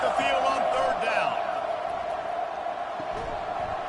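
A home crowd cheering and roaring at an American football game as the defense faces third down, a loud, steady wall of stadium noise with a commentator talking over it.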